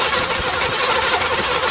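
A 1986 Mercury Grand Marquis engine cranks and catches after sitting five years, a rough, loud, uneven rumble close by with knocking pulses as it tries to run.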